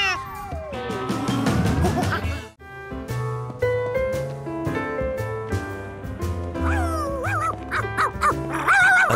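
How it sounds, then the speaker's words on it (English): Cartoon dog yips and barks in short, bright bursts amid lively music and whimsical sound effects, with pitched slides and rapid repeated yaps toward the end. "A dog bouncing down the sidewalk meant 2 things."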